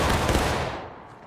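A musket volley from a company of Civil War reenactors bursts out as one loud, dense blast that rolls and fades away over about a second, with no voices.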